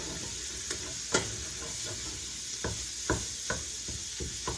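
One-pot sausage pasta simmering and sizzling in a pan, punctuated by several distinct utensil clacks and scrapes against the pot as it is stirred, close and moderately loud with no voices.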